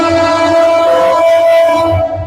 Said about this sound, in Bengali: একটু ট্রেন দেখাই আপনাদেরকে নয়েজের মধ্যে